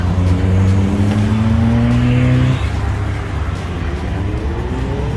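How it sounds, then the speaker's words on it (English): Loud car engines at a VW motor show drone and rev nearby, one holding a rising tone before cutting off, leaving a busy wash of motor noise. "there's a VW motor show on and we've just got lots of cars"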